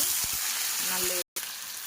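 Frying in a kadai, a close, busy sizzle with stirring knocks and scrapes before a brief cut-out, then the sizzle resumes.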